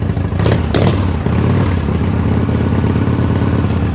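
A Harley motorcycle engine idling as it warms up after a cold start: a loud, close, lumpy rumble with steady clattering pulses, and a couple of sharper bangs near the start.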